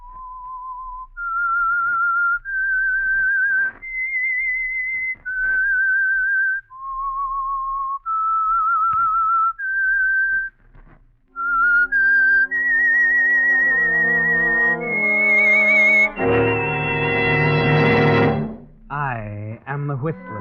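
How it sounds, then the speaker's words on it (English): A single person whistles a slow, eerie melodic tune as the signal theme for The Whistler radio program, clear and close, before an orchestra swells in and takes over the melody. "That whistle is your signal for the Signal Oil Program"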